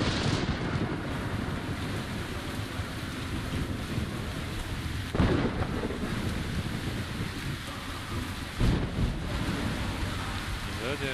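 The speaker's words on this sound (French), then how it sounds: "Plein dans l'orage, parfait." A thunderstorm with heavy rain in the video game Metro Exodus, a steady dense hiss of downpour and wind with a couple of brief rumbling thunder swells.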